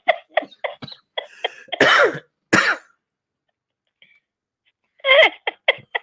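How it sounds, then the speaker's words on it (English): A man's moist, chesty cough comes as two loud, rough bursts near the middle, set among short throaty vocal noises, with quiet gaps before and after. "Now he got a moist cough."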